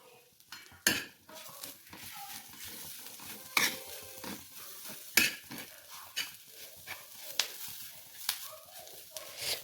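Ground green chili thecha paste sizzles on a hot griddle as a spatula scrapes and stirs it, with sharp metallic clinks and scrapes recurring irregularly over a soft crackle, close and moderately loud.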